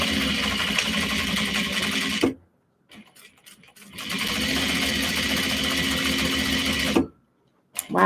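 A sewing machine stitches over thick bag webbing in two loud, fast runs of rapid mechanical whirring, separated by a pause with a few soft clicks and handling noises.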